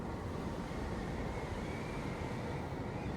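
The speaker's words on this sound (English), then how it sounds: "with more wind gusts and stuff like that" Wind gusts roar steadily across the landscape in the video game Journey, a dense, broadband rush that holds at an even, moderate loudness without breaks.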